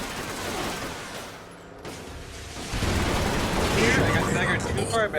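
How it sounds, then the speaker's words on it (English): Minigun fire in Fallout 76, a dense, continuous roar of rapid shots that eases briefly and then surges back louder and sustained. A voice talks through the middle of it. "just fire off a few more rounds from the minigun to trigger bullet shield again"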